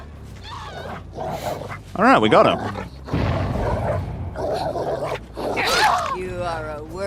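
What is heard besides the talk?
dog barking in video game Dead by Daylight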